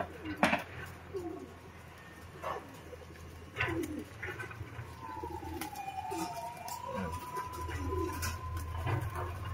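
Racing pigeons in a loft setting, with brief flaps and soft calls amid outdoor bustle, as the birds scatter and fly off separately; no talk over the sound.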